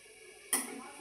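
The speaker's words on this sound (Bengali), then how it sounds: "এখন আমি দিয়ে দেবো ঢাকা" A lid is set down onto a cooking pot of okra with poppy seed, one sharp clatter followed by a faint lingering rattle and simmering hiss, close and fairly quiet.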